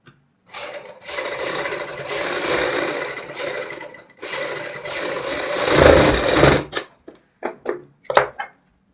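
A sewing machine stitches a blouse back neck through buckram, its steady mechanical whirr running in two long bursts close by, followed by short stop-start runs and clicks.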